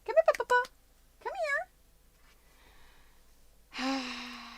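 A house cat meowing indoors: a cluster of quick rising meows, another plaintive meow a moment later, then a longer low meow after a quiet pause, close and fairly soft.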